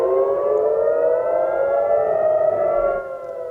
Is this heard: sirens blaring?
yes